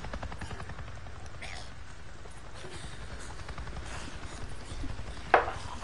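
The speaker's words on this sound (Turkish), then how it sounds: "Ha bu helikopter gürültü yaptı yalnız ha." A helicopter flies overhead in the video game Days Gone, a steady rapid rotor chop pulsing throughout, fairly close and loud, with a brief sharp knock near the end.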